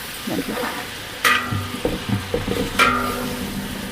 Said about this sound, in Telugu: వేసి బాగా పచ్చివాసన పోయే వరకు వేపుకుందాము